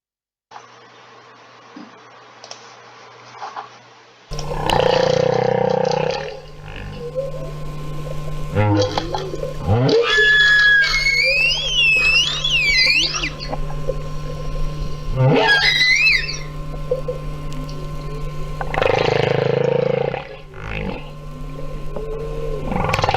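Humpback whale song recorded underwater off Hawaii, a long sequence of moaning, rising and falling units with high swooping cries and low groans, loud and continuous after a quiet start with faint hum.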